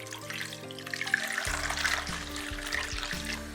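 Tap water runs steadily into a bowl holding three pears and a spoonful of salt for washing, a close, continuous splashing trickle beneath background music.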